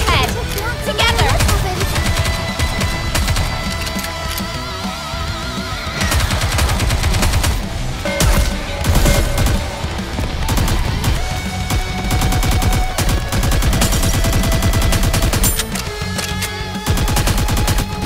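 Rapid bursts of automatic gunfire from the video game Goddess of Victory: NIKKE crackle almost continuously, layered with game music and effects, loud and dense throughout.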